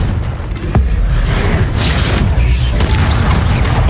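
Confringo blasting spell going off in Hogwarts Legacy, a loud, dense explosive boom with rumbling low end that fills the whole stretch, layered with crackling debris and game effects, no clear speech.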